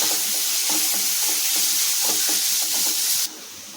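Onions and green chilies sizzle and crackle steadily in a hot pan, with occasional stirring scrapes, close and loud, then the sizzle drops slightly near the end.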